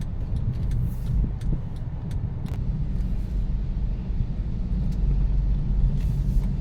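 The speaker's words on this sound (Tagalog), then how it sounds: "Ayan ang traffic." Heavy traffic on Commonwealth Avenue heading out of Quezon City from Fairview, a continuous low rumble of many vehicles with occasional passing swells, fairly close and steady.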